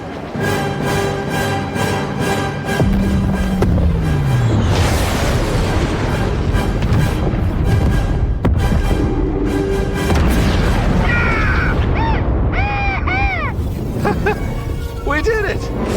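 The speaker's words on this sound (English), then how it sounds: "the group is able to escape just in time as the Death Star fires its super weapon" Death Star super weapon firing in the Fortnite video game, a loud, continuous booming roar with a descending tone and sweeping electronic tones, heard under steady narration and game voices.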